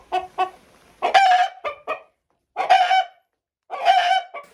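A rooster crows loudly and close by inside a chicken coop, three long strained calls, each opened by a few short clucks and separated by brief pauses.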